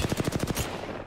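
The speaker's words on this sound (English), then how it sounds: "Why am I being shot?" A quick burst of video-game gunfire strikes the player, about half a second of rapid, evenly spaced close shots that then trail off into a softer rumble.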